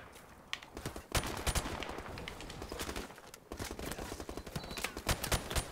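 Gunfire in the video game Call of Duty Modern Warfare Remastered: a dense, continuous firefight of rapid automatic bursts and sharp single shots, fairly loud and close, with no talk.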